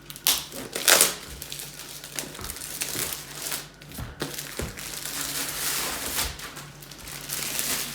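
Cellophane wrap is peeled and crinkled off a diamond painting kit box, giving a close, continuous rustling and crackling with sharper tearing crackles at the start.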